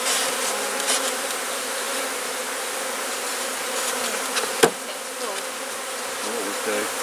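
A steady, dense buzz of many honeybees fills the scene continuously, with a single sharp knock partway through.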